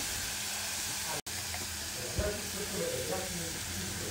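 Vegetables frying on a slow flame in a pan, with a steady, even sizzle close by and a brief break partway through, while a quiet voice speaks faintly underneath.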